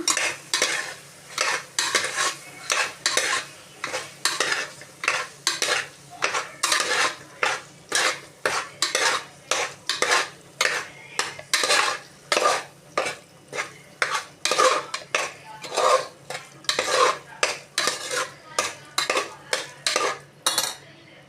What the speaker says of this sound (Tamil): இப்போ கொஞ்சம் மஞ்சள் பொடி போட்டு நல்லா கிளறி விடும்